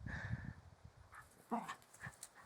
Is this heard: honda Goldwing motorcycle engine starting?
no